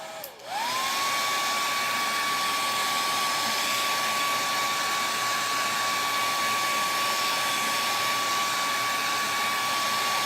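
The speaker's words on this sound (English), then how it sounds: "I'm gonna blow dry this" Hair dryer blowing steadily on a strawberry decor transfer, a constant close whine that starts at once and holds for the whole stretch with no talk.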